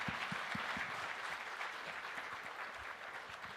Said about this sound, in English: please join me in giving a warm applause to our panelists